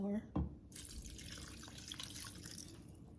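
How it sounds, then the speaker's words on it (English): Coconut milk pours steadily into a sweet potato cornmeal pudding mix, a continuous liquid splashing and trickling after a brief knock at the start, with faint background talk. "We're gonna add our coconut milk and our vanilla."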